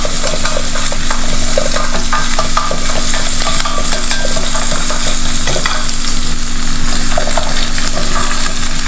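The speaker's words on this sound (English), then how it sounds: "Keep sauteing it." Shrimp curry ingredients, including halved jackfruit seeds, sautéed and stirred in a pan for a Kerala-style dish, giving a loud, steady sizzle with scraping stir strokes throughout and no talking.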